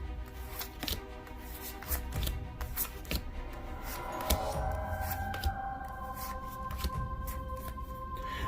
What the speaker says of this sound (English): when you shuffle these, after you shuffle these all up